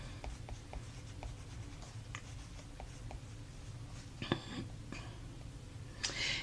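Chalk or marker strokes on a board during a math lesson, a series of short, quiet taps and scratches spaced irregularly, with a louder scrape near the end in a quiet room.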